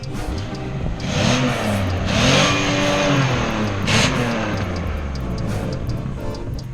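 A straight-piped Buick's engine revs loudly and harshly up close, rising and falling in several swells over a continuous raspy drone with no talk.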